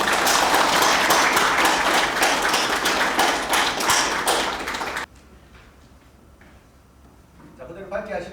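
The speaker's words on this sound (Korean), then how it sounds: "큰 박수 부탁합니다" Loud applause from a crowd at a company new-year ceremony after a cake cutting fills the first five seconds, then cuts off abruptly, leaving quiet room noise and faint voices.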